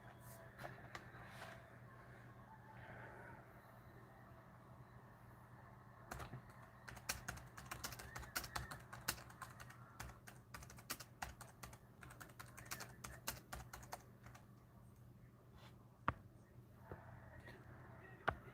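A computer keyboard clicks and clatters in quick irregular bursts of keystrokes over a low steady hum, at moderate distance, with a louder, denser run of typing in the second half.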